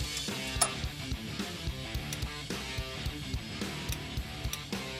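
A torque wrench ratchets on a motorcycle rear crash bar frame bolt, giving rapid, regular mechanical clicks in short bursts, close and clear, with no speech.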